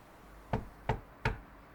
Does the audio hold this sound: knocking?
yes